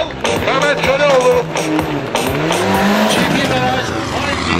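Mitsubishi rally car leaving the stage start at the Ege Rally, a loud close engine rising through revs with tyre squeal and shifting pitch, crowd noise and talk mixed beneath.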